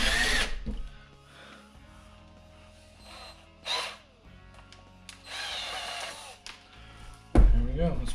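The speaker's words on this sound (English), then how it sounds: "All right, just drill this in here." A power drill bores a bolt hole in a DIY kayak crate, whirring in several short bursts separated by quiet pauses, close and fairly loud.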